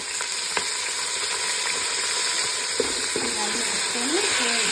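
Onions and mint frying in a pan for prawn biryani, giving a constant bright hiss with a few faint stirring knocks, close and steady, with low background sounds and no clear speech.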